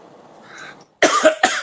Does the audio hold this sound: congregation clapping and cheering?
no